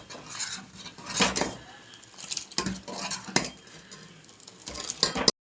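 A spoon scrapes and clinks around a pan while chili powder, turmeric and coriander powder are stirred in, a run of close, uneven metallic scrapes and taps with faint sizzling underneath and no talk.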